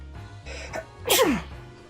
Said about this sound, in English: I gotta sneeze now.